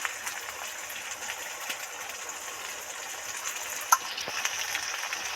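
Tomato and grated onion frying in oil in a pan, giving a steady, moderate hiss of sizzling that holds evenly throughout, with one brief clink partway through.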